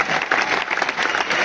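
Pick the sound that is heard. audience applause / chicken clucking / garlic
audience applause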